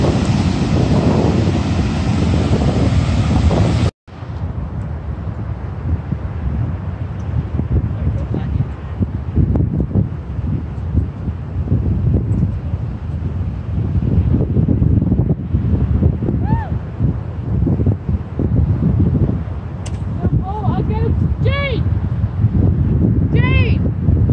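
Southern Ocean waves and strong wind roar on the Great Australian Bight, with heavy wind buffeting the microphone and a steady surf rumble, loud and continuous, with speech briefly heard near the end.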